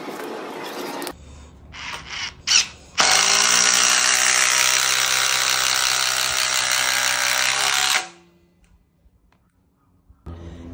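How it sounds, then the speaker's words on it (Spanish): A DeWalt impact driver at full battery and top speed sinks a SPAX screw into wood: a few short bursts, then about five seconds of loud, steady hammering whir that stops abruptly, leaving near silence. "Vamos a poner este tornillo SPAX en esta madera."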